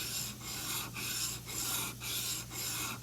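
A metal tool is sharpened on a 300 grit stone with a series of smooth, rasping strokes at a regular back-and-forth pace, about two per second, fairly quiet and close, with no talking.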